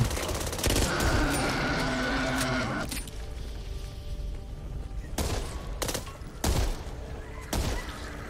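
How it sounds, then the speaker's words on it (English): Gunfire in the Back 4 Blood video game: a dense fusillade of automatic fire at the start, then scattered sharp loud single shots amid background game noise. "I'm gonna shoot this."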